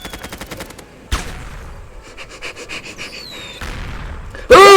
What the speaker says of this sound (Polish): Uwaga, rakietnicą strzela pan.